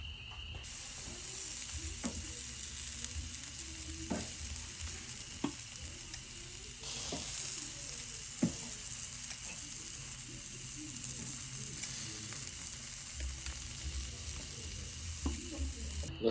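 Tenderized deer backstrap poppers sizzle steadily on a covered cooker, a continuous close frying hiss with occasional pops and crackles throughout.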